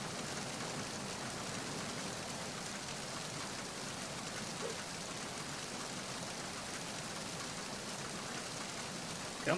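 Rain in the Metal Gear Solid 2 video game, a steady broadband hiss of falling rain, even and continuous at moderate level, with no talking.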